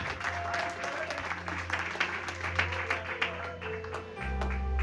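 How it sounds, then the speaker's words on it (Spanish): Congregation applauding during a church service, sustained clapping from a crowd over a low steady hum, with a deeper rumble swelling near the end. "Dale fuertes aplausos a Jesucristo en esta hora"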